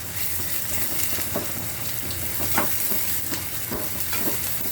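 Finely chopped onion sizzles and fries in hot oil while a spoon stirs and scrapes the pan in a steady, close, continuous hiss with periodic scraping strokes.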